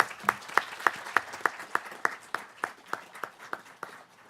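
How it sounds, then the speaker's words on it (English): Steady, evenly spaced clapping from a small group at a San Bernardino County Board of Supervisors meeting, about three claps per second, fairly close and gradually softening over a few seconds with no talking. "I'd like to ask everybody here to give you a round of applause for your service."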